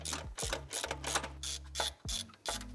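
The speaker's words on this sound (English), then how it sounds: "Time to tighten up the bolts and nuts for our turbo downpipe here." A ratchet tightens the nuts and bolts on a Subaru STI turbo downpipe, producing rapid bursts of close, crisp clicking separated by short pauses as the handle swings back and forth.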